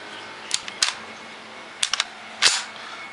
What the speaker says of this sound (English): I'm going to go ahead and rack the bolt.